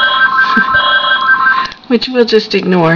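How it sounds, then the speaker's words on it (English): A telephone rings indoors with a steady repeating electronic tone during a home sock-knitting session, then stops as a voice begins speaking close to the microphone. "and that's the phone ringing"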